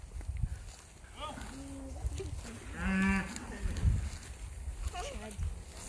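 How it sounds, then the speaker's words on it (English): Several Kiwi cows on a farm moo in long, low, drawn-out calls, one after another at close range, with people talking over and between them. "They're mooing for you."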